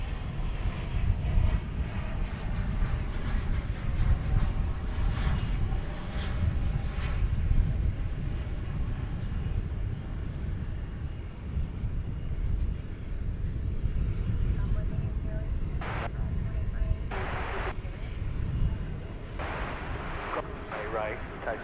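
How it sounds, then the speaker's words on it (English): An American Airlines Boeing 737-800 arriving at DFW airport at night, its engines a loud, steady low roar that fills the whole stretch, with a few brief sharper bursts near the end. "We've got American Flight 2374 coming in from San Antonio, Texas. It is a 737-800 here on Runway DFW."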